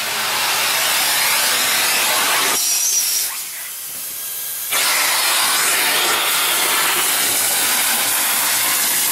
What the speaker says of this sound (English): now he's going to go ahead and vacuum behind this piece